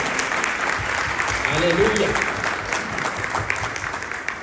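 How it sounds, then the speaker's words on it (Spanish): Church congregation clapping loudly and steadily throughout, a dense wash of applause with a voice calling out over it. "denle fuerte palmas al Señor"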